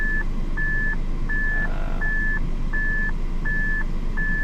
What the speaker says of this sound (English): This car is also a little weird that it has this backup beeping sound